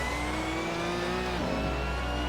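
A simulated race car in a racing video game, running with traction control and ABS on cold tires, gives a deep, meaty engine rev whose pitch rises and then drops sharply near the end, loud and steady with no talk over it.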